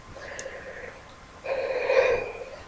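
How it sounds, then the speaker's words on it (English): A woman's drawn-out yawn, quiet and close, rising into a louder breathy stretch in its second half with no speech over it. "I'm still yawning, I'm afraid."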